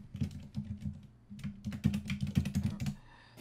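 Fast, uneven typing on a computer keyboard during a coding session, with dense close keystroke clatter and a few short pauses, and no voices.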